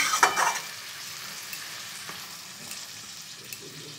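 A Malabar spinach seed vegetable curry is stirred in a pan after a little water goes in, with a brief burst of hissing and clatter at the start settling into a soft steady simmer with occasional light taps.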